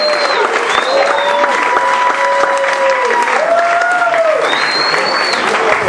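A comedy club audience at the Laugh Factory claps loudly and continuously, a dense wash of applause with a few cheers and voices mixed in.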